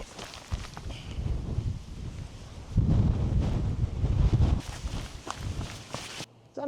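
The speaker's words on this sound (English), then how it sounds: "It's a bit windy" Wind buffeting the microphone on a mountain hike up Sugarloaf Peak in the Cathedral Range, loud, gusty rumble with footsteps crunching along the trail and brief lulls between gusts.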